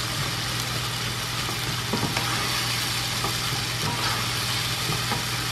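Tomatoes cook down in a pan for sautéed cabbage with shrimp, making a continuous even sizzle with a low background hum and a few faint clicks, close and without speech.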